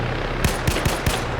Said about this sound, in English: Shots going on that vehicle.